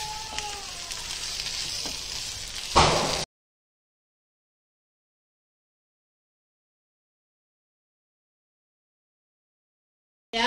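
Peas and capsicum sizzle as they fry for a masala dosa filling, a soft steady crackle for about three seconds that then drops to silence before briefly returning at the very end.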